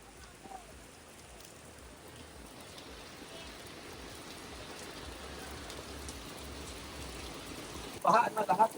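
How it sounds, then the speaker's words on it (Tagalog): Heavy rain pours steadily in a constant hiss on Boracay Island, Philippines, with a short burst of louder clatter at the very end. "Pero walang tigil ng ulan mga kaisla."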